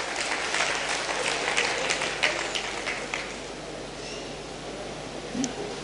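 An audience at a talk on mind medicine claps with sharp, distinct claps over the first few seconds. The applause then thins into softer, scattered clapping and rustling that fades toward the end.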